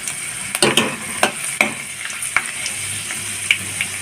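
Green chilli paste with ginger and garlic hits hot oil in a pan, a bright steady sizzle broken by several sharp spatters and stirring scrapes, close and fairly loud, with no talking.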